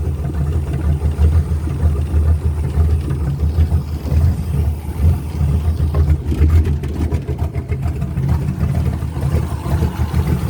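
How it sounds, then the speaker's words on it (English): The carbureted engine of a 1966 Toyota Stout truck, freshly rebuilt with new oil, runs steadily and close with a rough, even mechanical drone and no talk. "just filling the carburetor up, running it for a minute or two."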